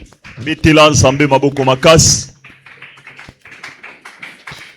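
A church congregation claps, with soft rhythmic taps coming through faintly after a stretch of loud talking and continuing under quieter speech.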